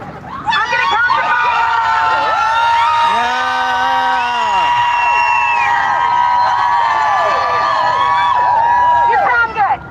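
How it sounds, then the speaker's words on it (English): A large crowd at a women's march in Philadelphia screams as loud as it can, many overlapping high shrieks and whoops in a sustained, loud roar that cuts off abruptly. "I want everybody to scream as fucking loud as they can."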